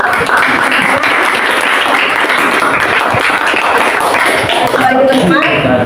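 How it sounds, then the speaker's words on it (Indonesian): A group at a school coaching workshop applauds, with steady clapping lasting several seconds and some voices mixed in. "Kita berikan aplaus."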